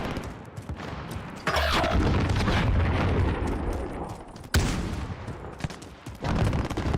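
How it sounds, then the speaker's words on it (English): Heavy gunfire and a stun grenade in Call of Duty: loud rolling volleys of shots with a sharp concussive bang midway, followed by further bursts of fire, close and continuous with no talking. "Throwing stun."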